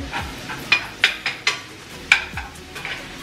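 Ground meat cooks in a pan for stuffed shells, with a soft sizzle under a series of sharp clinks and scrapes from a utensil stirring, about six distinct strikes spaced unevenly.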